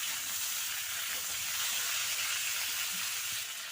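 Ridge gourd pieces fry unsalted in hot oil in a pan, producing a dense, even hiss of sizzling that holds steady and close throughout with a faint bubbling underneath.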